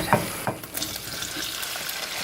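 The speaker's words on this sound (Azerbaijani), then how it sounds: "Həmin yağa tökürəm badımcanları." Eggplant slices coated in beaten egg fry in hot oil with a continuous close crackling sizzle. A couple of soft clinks or drops sound at the start.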